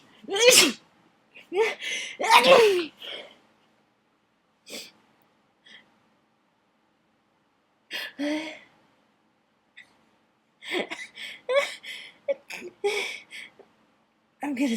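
A person sneezes loudly near the start, followed by further sharp bursts and breathy sounds, with a scattered, close, vocal cluster of snorts and gasps later on.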